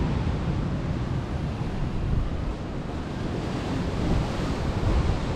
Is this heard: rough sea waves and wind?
yes